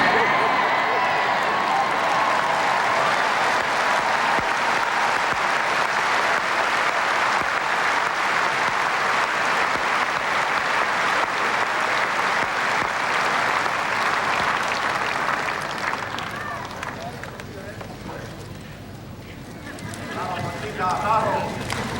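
Sustained, dense applause from a large tennis crowd at Wimbledon, loud and continuous for most of the stretch before gradually thinning out, with faint voices surfacing near the end.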